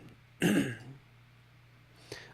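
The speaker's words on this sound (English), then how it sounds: "I just feel bad that I'm coughing." A single rough throat-clearing cough, close and fairly loud, followed by quiet and a faint second catch at the end.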